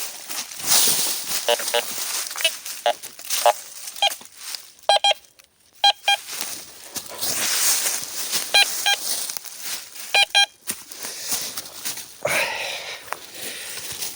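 A metal detector beeping in short repeated tones while searching around a ruined mill, the beeps heard in several bursts among footsteps, rustling and a man's speech.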